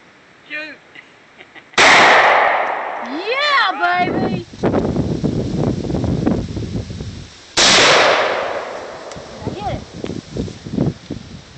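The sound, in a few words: gunshots fired at a Dr. Pepper can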